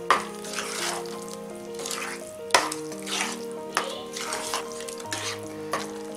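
Mashed vegetables for pav bhaji are mixed in a pan, giving repeated scraping and squelching strokes with a few sharp knocks, over a soft sizzle and steady background music.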